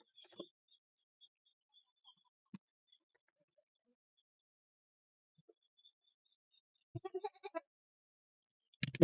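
Goat bleating during deworming before the rainy season, a few faint, brief bleats scattered through near silence, with a louder cluster of short calls toward the end.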